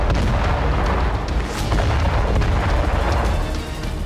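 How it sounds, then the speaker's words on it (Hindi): An explosion on an Iranian gas pipeline comes through as a loud, rumbling roar of blast and fire, with deep booming surges and crackling bursts sustained for several seconds. "ईरान की गैस पाइपलाइन पर कुछ इस तरह से विस्फोट हुआ।"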